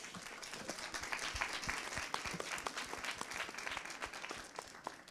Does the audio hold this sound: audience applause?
yes